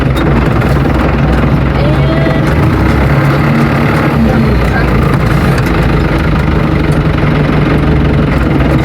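A tractor engine runs loud and steady with spinning brush puller heads, its heavy droning hum and mechanical whir continuous close by while someone talks over it.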